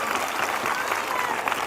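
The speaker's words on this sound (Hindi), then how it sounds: "आपकी तालियों की गड़गड़ाहट" Thunderous clapping from a church congregation at a Sunday evening meeting, a loud, dense roar of many hands that fills the room and keeps going without a break, with faint voices mixed in.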